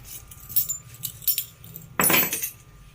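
Keys jangle as they are taken up to open a steel cupboard at home, with a few light clinks early on and a brighter, louder rattle near the end, heard alone without talk.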